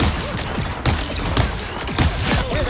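Iron Man's rockets firing in the Marvel Rivals video game: a rapid fusillade of sharp blasts and whooshing bursts, with dense repeated impacts over about three seconds.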